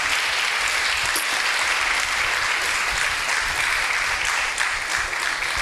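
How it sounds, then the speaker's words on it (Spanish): A church congregation applauds loudly and steadily during a sermon, a continuous dense roar of many hands clapping that holds at an even level throughout. "Dale un fuerte aplauso al Señor."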